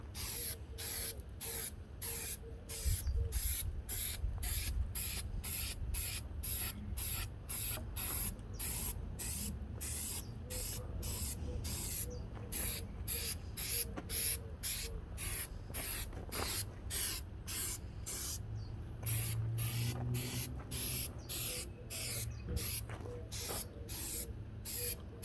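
A spray can applies bedliner paint onto a car rim in rapid, repeated short bursts of hissing spray, steady and close throughout, with no talking.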